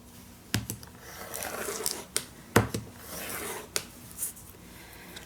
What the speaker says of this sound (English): And now I am cutting the second one.